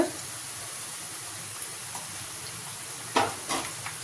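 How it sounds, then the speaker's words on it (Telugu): Green chilies, curry leaves and ginger-garlic paste fry in oil for egg dum biryani, giving a continuous hissing sizzle with a few soft stirring scrapes and spoon taps toward the end. "ఒక రెమ్మ కరివేపాకు, ఒక స్పూను అల్లం వెల్లుల్లి పేస్టు పచ్చివాసన పోయేదాకా ఫ్రై చేసుకున్నాం"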